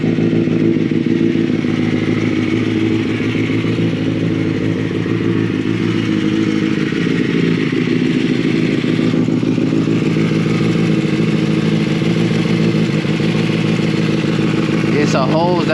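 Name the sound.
Kawasaki ZX6R motorcycle engine running with straight-piped exhaust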